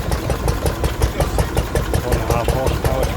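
A Bamford 1.5 horsepower twin flywheel stationary engine runs at a steady idle, its rapid even chuffing beats loud and close, with a voice speaking over it outdoors at a rally.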